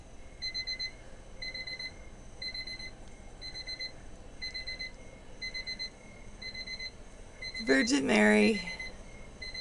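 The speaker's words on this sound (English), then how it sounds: "there goes the timer" A timer alarm goes off in short bursts of bright, repeating beeps at a steady rhythm, with a person talking over it and a louder burst of sound near the end.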